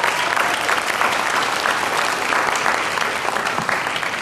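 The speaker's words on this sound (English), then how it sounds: "So let's give a round of applause to these individuals." Audience applause fills the room at a university public speaking competition, steady and dense clapping from a sizable crowd held at an even level throughout, with no voices on top.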